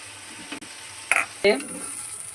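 Water lily leaves with coconut and mustard paste are stirred in a pan, with a soft low sizzle, a few sharp utensil clinks and scrapes in short bursts, fairly quiet and close.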